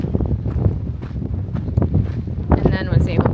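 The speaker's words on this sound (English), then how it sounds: "But it's really windy." Strong wind gusts buffet the microphone on a Continental Divide Trail hike, roaring and rumbling continuously at close range.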